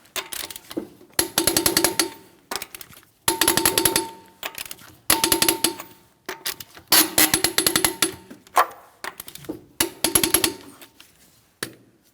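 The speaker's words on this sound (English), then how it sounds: "Let's go ahead and torque these to that 100 foot-pounds" Wheel lug nuts on a 2007-2014 Ford Edge are tightened with a torque wrench to 100 foot-pounds. Repeated close bursts of rapid ratcheting clatter, each about a second long, are separated by short pauses, with no talk.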